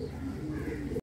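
Pet pigeons coo softly and continuously at close range, a low rolling murmur that carries on until a sudden cutoff near the end.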